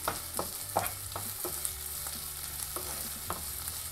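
Chopped green chillies sautéed in a spicy Guntur chicken masala, a steady close sizzle with repeated rhythmic spatula strokes scraping the pan, no voices.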